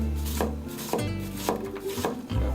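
A handmade Echizen kitchen knife chops food on a cutting board, giving a few firm, irregular knocks against the board over steady background noise.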